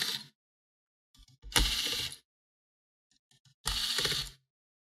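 Small screws being backed out of the heatsink of an HP 240 G5 laptop, heard as two separate bursts of close, crisp metallic ratcheting and clicking with silence between them.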